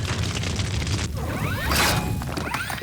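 Large fire explosion visual effect from the Iron Man 2 film: a dense roaring blast with crackling debris, swelling to a bright burst midway, then scattered crashes and fizzing as it settles.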